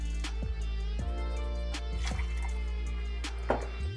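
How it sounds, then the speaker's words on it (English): Pineapple juice poured into a cocktail, a thin close trickle and drip of liquid with a few small clinks, steady and quiet throughout. "Next up, 40 mils of pineapple juice."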